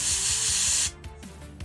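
A spray can or airbrush hisses steadily while dark paint is misted onto the gun of a Blood Angels miniature, one continuous close burst that cuts off sharply, followed by faint handling clicks.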